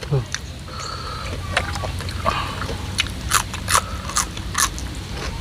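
Crunchy shellfish in a Thai papaya salad with two kinds of shellfish being bitten and chewed: repeated sharp crackling crunches near the mouth, with speech around them.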